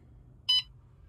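A Renogy One Core battery monitor sounds a single short electronic beep for its low state-of-charge alarm, clear and close against a quiet low hum.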